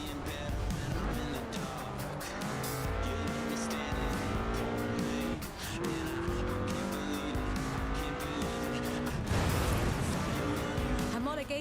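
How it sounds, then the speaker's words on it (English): Ford Escort RS 1800 rally car with a fuel-injected 1790cc Cosworth BDE engine, driven in the video game Forza Horizon 4; engine drone and tire squeal run steadily throughout, with someone talking over it. "This was a car designed explicitly for rallying, with a powerful fuel-injected 1790cc Cosworth BDE engine."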